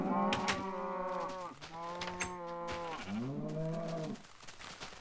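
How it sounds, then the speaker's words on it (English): Cows in a modded Minecraft-style video game moo in three long, drawn-out calls one after another, fairly close and clear against a quiet background. "Hi there, cows."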